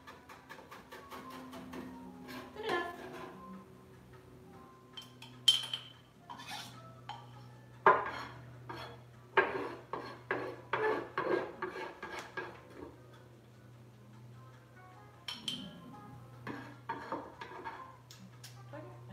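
Vegetables are chopped for a stir fry with a knife on a board, giving irregular bursts of close, crisp knocks and clinks. A low steady hum runs underneath, with quieter gaps between the bursts.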